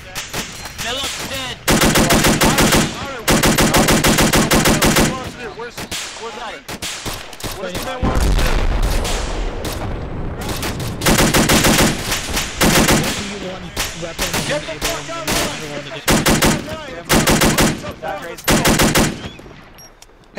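A machine gun in a sandbag bunker in a World War II video game fires repeated loud bursts of rapid automatic gunfire, separated by short pauses, while players talk over radio chatter between volleys.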